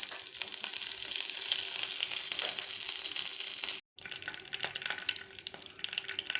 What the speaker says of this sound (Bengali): এখানে আমার সরষে কড়ি পাতা ভাজা ভাজা হয়ে এসছে